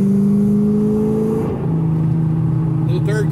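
A 2001 Ford SVT Cobra Mustang pulls away from the Mustang Week car show, its engine note holding steady then dropping as it shifts, a loud continuous drone with crowd talk around it.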